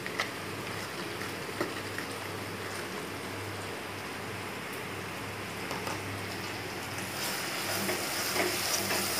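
Spice paste of cumin, coriander and turmeric frying in a pot for mutton curry, a steady, dense sizzle throughout with occasional soft stirring scrapes.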